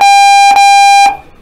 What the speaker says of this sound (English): This buzzer behind my ear